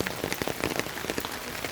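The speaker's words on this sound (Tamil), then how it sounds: "இப்போ தான் மழை குறைஞ்சிருக்கு." Rain falls as it eases off, a close, busy patter of drops striking nearby surfaces with irregular light taps.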